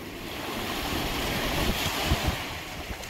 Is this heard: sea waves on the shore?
yes